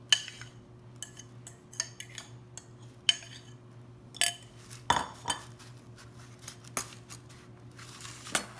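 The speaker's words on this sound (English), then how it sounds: "Now we're gonna add the cookies on the bottom of our pan." Cookies are set into the bottom of a greased baking pan for a pineapple dump cake, making a run of light clinks, taps and scrapes against the pan over a steady low kitchen hum.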